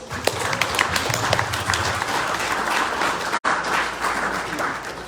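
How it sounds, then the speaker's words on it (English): A closing round of applause for the speakers at an evening presentation, steady clapping from an audience throughout, briefly cut by a short dropout. "I'd like to give our speakers one more round of applause, please"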